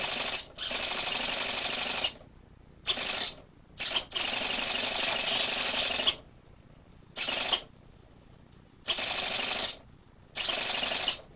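Elevator servo on an E-flite Night Timber X RC plane whirring in a series of short, loud buzzing bursts separated by brief pauses, close up and without talk.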